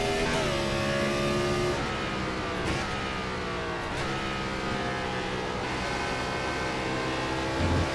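A Gen 4 Cup stock car in the iRacing sim at Watkins Glen, its engine droning steadily and loudly with pitch rising and dropping through gear changes and throttle lifts, continuous with no talking.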